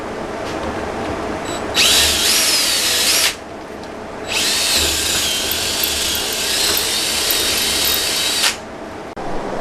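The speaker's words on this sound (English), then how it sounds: "I'm going to basically just clear out that JB weld that's in that hole" A power tool bores hardened JB Weld epoxy out of a screw hole in a handmade knife, giving two loud, high-pitched whining bursts, the second longer, separated by a short lull of quieter background noise.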